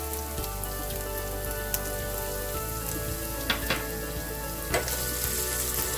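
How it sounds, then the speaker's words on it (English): Ginger frying in hot oil over low heat with curry leaves, a constant bright crackling sizzle with occasional sharper pops and light stirring clicks, close and without speech. "30-second mix to partially cook the ginger down a little."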